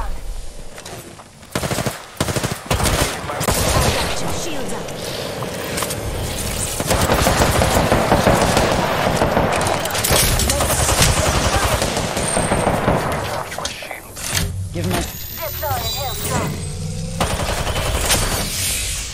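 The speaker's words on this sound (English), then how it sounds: "I shoot him, but out of bullets." Rapid automatic gunfire in the Apex Legends battle royale game, loud and nearly continuous bursts with sharp cracks and scattered single shots throughout, with faint voices underneath.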